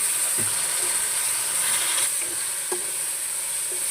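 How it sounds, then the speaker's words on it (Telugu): Tomatoes stirred into onions frying with curry leaves in a pan, a steady soft sizzle with a few faint scraping stir sounds, close and without talk. "ఇప్పుడు టమాటాలు కూడా వేసేసుకుందాం ఒకసారి కలిపేసుకుందాం"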